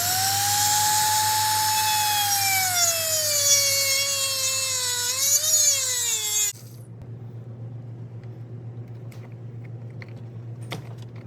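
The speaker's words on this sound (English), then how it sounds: "So I'm just gonna Dremel it, cut it, and you'll see what the process looks like." A Dremel rotary tool whines loudly as it cuts through a stuck power steering hose on a BMW E46 325ci, its pitch sagging and rising under load for about six seconds before cutting out, leaving faint clicks and a low hum.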